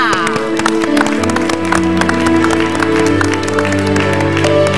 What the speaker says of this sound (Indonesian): Beri tepuk tangan untuk Mbak Zoya.